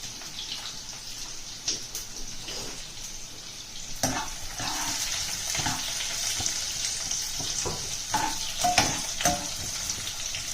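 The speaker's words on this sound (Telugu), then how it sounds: "కిచెన్ లో చేస్తుండగా ఆయిల్ చెట్లుతుంది పచ్చిమిర్చి చెట్లుతుంది" Oil and green chilies splutter and sizzle in a pan while mutton curry cooks in a home kitchen, a steady frying hiss with sharp pops and occasional stirring clatter.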